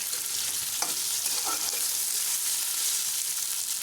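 Onions, green chillies and fennel seeds frying in a pan, a steady, soft sizzle with a few brief stirring scrapes.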